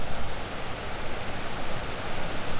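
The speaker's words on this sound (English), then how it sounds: "It's the waterfall. It sounds fantastic." A waterfall on a river in Garvagh, Northern Ireland, roars from a distance as a steady, dense rush of water that holds an even level throughout, with no voices over it.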